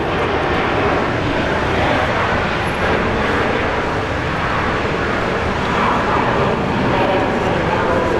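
A Jetstar airliner arriving at Brisbane Airport on a flight from Tokyo Narita fills the air with a loud, continuous engine roar that stays steady and broad with no break.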